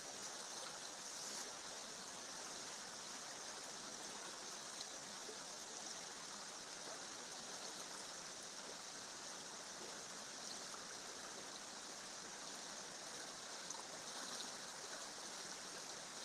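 A stream trickles and bubbles in ancient woodland, with waterfalls running inside a cliff beside an old Roman quarry, a steady, soft, continuous rush of water with no voices.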